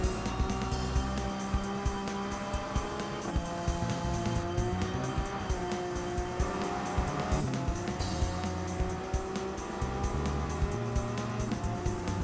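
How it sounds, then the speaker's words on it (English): Race car at full throttle with nitrous in Gran Turismo 7, a steady loud engine drone with shifting harmonic whine as it holds speed through the lap, with background music layered throughout. "now you can do the rest of the lap full throttle with nitrous"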